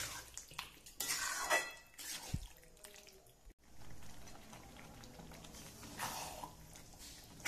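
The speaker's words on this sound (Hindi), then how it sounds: "अब हम इसमें अपना ये पास्ता वाटर डालेंगे जो पास्ता छानते समय बचा था।" Reserved pasta water poured into a pan of white sauce pasta: a splashing liquid pour with bubbling and drips, plus a few clinks of a utensil against the pan, near and fairly loud, with no talking.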